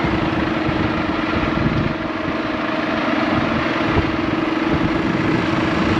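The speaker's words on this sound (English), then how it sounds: "There you have the Fendt, 130 horsepower with the same wheel setup." A Fendt tractor with a 130-horsepower engine runs at a steady idle, its low, even rumble close and continuous throughout.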